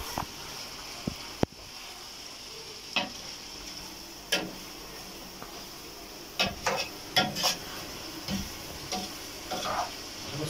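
Liver tossed into a pan where gizzards are already frying, giving a steady close sizzle broken by scattered sharp clinks and scrapes of a stirring spoon against the pan.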